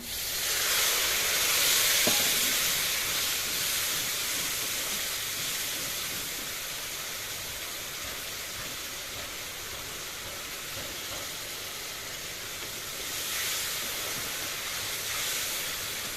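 Water hisses steadily in a hot pan of chhanar dalna, a paneer curry, giving a loud, continuous sizzle that barely changes for the whole stretch.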